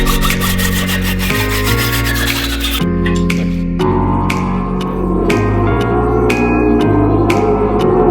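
Steady back-and-forth hand sawing through a marked half-inch steel bar being cut for forging a punch, a run of rhythmic rasping strokes close up, with steady tonal music underneath.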